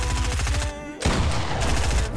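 Rapid automatic gunfire in a Fortnite Pop-up Cup match rattles in dense, continuous bursts, broken by a brief pause before the shooting resumes just as loud.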